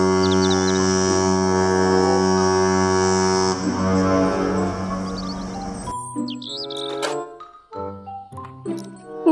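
A toy cruise ship blares a deep, sustained horn tone for several seconds, with faint chirpy effects layered on top, before it changes to a short tune of separate electronic notes.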